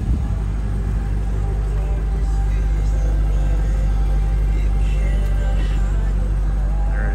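A 2000 Chevrolet Corvette with its standard 5.7 engine runs at idle, a steady deep rumble heard close and loud without pause.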